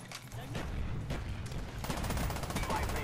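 FAMAS rifle fire in Call of Duty Black Ops on PC: loud, rapid bursts of automatic shots running almost continuously, with an extra crackling volley near the end.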